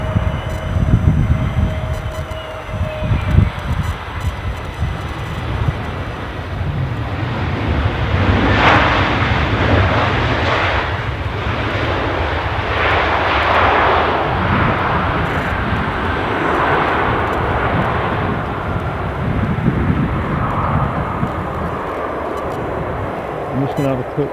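An Airbus A320neo at Edinburgh airport, its jet engines giving a sustained broad roar that swells and holds, with a person talking over the noise near the start.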